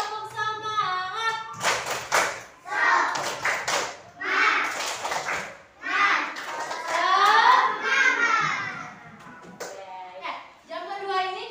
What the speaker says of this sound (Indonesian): tepuk semangatnya gimana anak-anak?